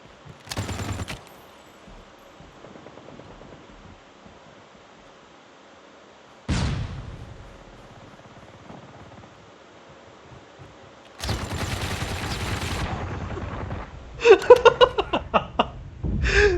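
Gunfire in the mobile shooter game Call of Duty Mobile comes in sharp bursts, an early short volley, a lone crack, then sustained fire ending in a rapid string of separate shots, with quiet gaps between.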